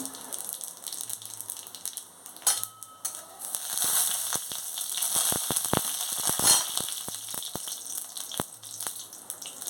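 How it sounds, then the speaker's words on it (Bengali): Dried red chillies and panch phoron spices hit hot oil for a raw mango chutney and sizzle loudly and steadily up close, with crackling pops and clinks from a utensil against the pan. "তেল গরম হয়ে গেছে এবার আমি এর মধ্যে দুটো শুকনো লঙ্কা দিচ্ছি আর দিচ্ছি একটু পাঁচফোড়ন"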